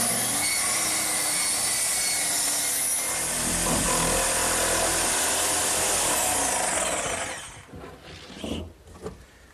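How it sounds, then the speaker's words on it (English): Power saw cutting a hatch into the wooden seat of a hearthside settle, a loud sustained rasping whine lasting several seconds, then the blade winding down into quieter scrapes and knocks. "all that's left to do is cut the hatch in the seat"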